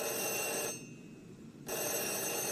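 An old landline telephone rings indoors in a 1986 French TV series scene, with a loud electric bell ring, a pause of about a second, then the ring starting again.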